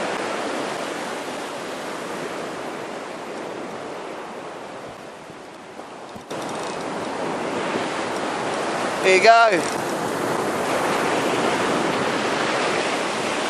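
Ocean surf on the New South Wales coast during salmon fishing rolls as a continuous broadband roar that swells louder partway through, with a voice speaking briefly over it.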